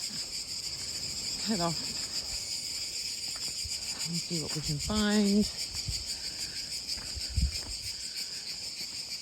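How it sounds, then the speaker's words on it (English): Cicadas in Greece, on Kefalonia near Atheras Bay, buzz in a steady high pulsing drone through the whole stretch, with a person talking briefly over the insect chorus. "You can hear all the cicadas, the sound of Greece."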